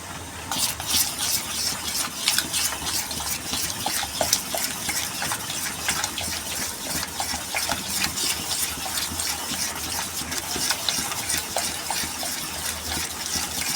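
Sooji and bottle gourd dhokla batter is stirred briskly after soda goes in, giving a rapid, even run of wet scraping strokes close by.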